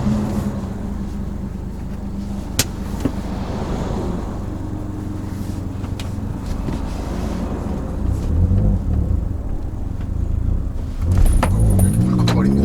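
A 2019 Hyundai Veloster 1.6T with a manual gearbox pulls away on a road among trucks. A low engine rumble is heard from inside the car, with light clicks and a rising surge of engine noise near the end.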